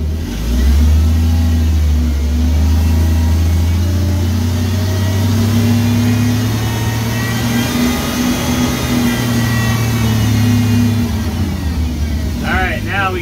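A 5-speed manual forklift engine pulls away in first gear, a loud steady droning hum that rises slightly in pitch and holds, close and continuous throughout.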